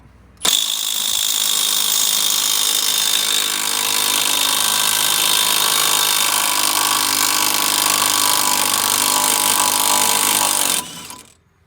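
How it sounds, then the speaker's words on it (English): A 600 foot-pound half-inch drive impact wrench, turned up to full power, works a large front wheel hub nut on a Ford Mustang. It gives a loud, steady mechanical whir that starts abruptly and runs for about ten seconds before stopping, with no talking. "this is a 600 foot-pound half-inch drive ratchet or impact"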